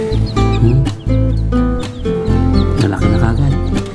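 A second batch of young chicks cheeps in thin, high, repeated chirps, scattered through a loud, dense bed of steady tonal background sound.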